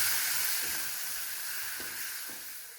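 Ground coriander-cumin and garam masala frying with tomato puree in a pan give a steady, close hiss and sizzle that eases off slightly toward the end, with no voices.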